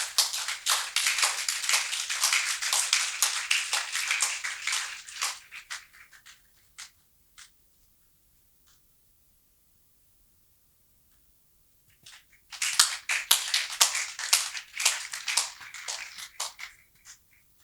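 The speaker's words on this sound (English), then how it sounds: "Please let's keep clapping till she comes." An audience at a health workshop claps in a dense burst, falls to near silence with a few stray claps, then breaks into a second round of applause.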